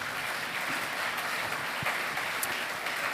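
Audience at a business awards ceremony, the Trophées des Entreprises du Cantal, giving steady applause throughout, a dense even patter of many hands at moderate level.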